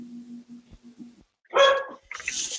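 A Dalmatian dog barks in the background, a couple of sharp nearby barks following a low hum, with no talk over them.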